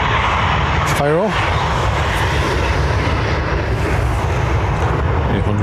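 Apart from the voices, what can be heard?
Ryanair Boeing 737-800 departing Dublin Airport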